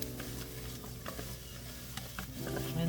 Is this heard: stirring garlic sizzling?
yes